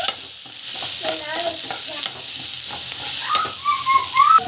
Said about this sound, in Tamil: ஸோ பச்சை மிளகாய் வெங்காயம் வந்து போட்டுக்கலாம். நல்லா வந்து கலர் வந்து கொஞ்சம் அளவுக்கு வதங்கட்டும்.